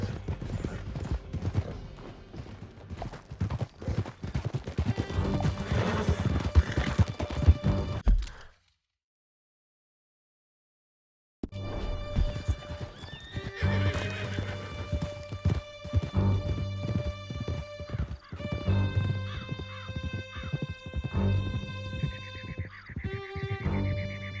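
Horse galloping in Red Dead Redemption 2, rapid hoofbeats pounding alongside music and game sounds, broken by a few seconds of total silence before the galloping and score resume.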